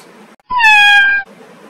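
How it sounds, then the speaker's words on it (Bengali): A single domestic cat meow, clear and close, rising then falling over under a second, with quiet background before and after. "ক্যাট, বিড়াল"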